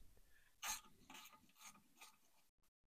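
A ratchet with a 10 mm socket turning the nuts off a boiler during a service, giving four quick clicking bursts in a steady rhythm, close and fairly quiet, with no talk.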